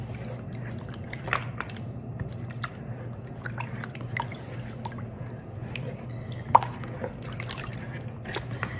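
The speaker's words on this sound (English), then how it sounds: "And we're just gonna stir it up." Sourdough starter is stirred with warm water in a bowl, giving soft wet squishing, dripping and sloshing sounds at close range over a low steady background hum, with one sharper splash near the end.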